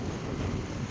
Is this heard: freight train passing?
no